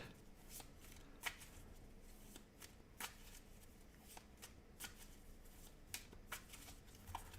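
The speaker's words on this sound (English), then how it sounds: "You're going to shuffle that deck up." A deck of robot cards from a solo board game being shuffled, crisp riffling bursts repeating at an irregular rhythm, close and fairly quiet, with no talk.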